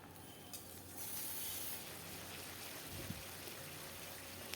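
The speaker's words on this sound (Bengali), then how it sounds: "এমনি করে ভেজে নিতে হবে হাই ফ্লেমে" Shredded gathi kochu (taro) frying in hot oil over a high flame, a quiet steady sizzling hiss that runs throughout with a slight swell near the start, no voices.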